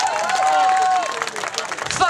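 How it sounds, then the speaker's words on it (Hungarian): Audience applause at the Őr cucumber festival concert, with a dense burst of clapping from the crowd and a voice speaking briefly over the start. "Hát egy hatalmas tapsot kérnék."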